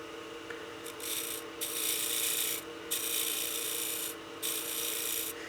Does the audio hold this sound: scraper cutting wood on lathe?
yes